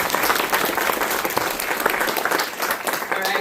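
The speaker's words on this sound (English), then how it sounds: "Another round of applause for Fiona." An audience applauds in a dense, sustained burst of clapping that fills the room at a live storytelling show, steady and loud throughout.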